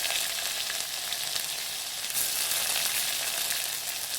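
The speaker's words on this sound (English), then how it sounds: "Fry it nicely." Sliced onions sizzling in hot oil with garlic cloves and curry leaves in a pan for South Indian fish curry, a constant close crackling hiss with faint stirring and no speech.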